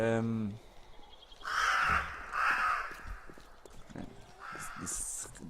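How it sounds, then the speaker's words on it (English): Crow caws from the survival game 7 Days to Die (Ravenhearst mod), two or three harsh calls standing out over a faint ambient game backdrop, with a brief low voice at the start. "that bird scared the crap out of me"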